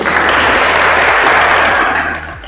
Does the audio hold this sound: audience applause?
yes